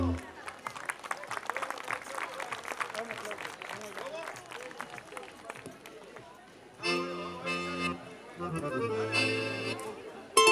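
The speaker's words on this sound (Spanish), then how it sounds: "Un aplauso para el público que aplaude." Crowd clapping at the Fiesta del Cordero in San Jaime, 2018, a busy patter of many hands for several seconds before louder music and a voice take over.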